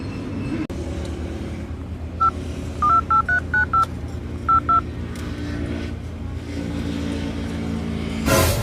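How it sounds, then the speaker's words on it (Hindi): Telephone number being dialed: a quick series of about ten electronic keypad tones beeping in an uneven rhythm over a steady low rumbling background. "अभी तुरंत हम डायरेक्टर का फोन लगबै छियै।"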